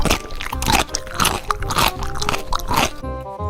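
Loud, close crunching and chewing of chowmein noodles during an eating challenge, with continuous wet mastication and scraping, ending in a brief lower rumble.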